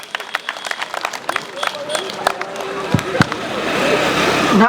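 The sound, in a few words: audience applause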